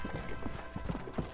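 In the Red Dead Redemption video game, a frightened horse whinnies while its hooves clop unevenly at night, with several sharp hoof strikes and a faint neigh under a low ambient bed.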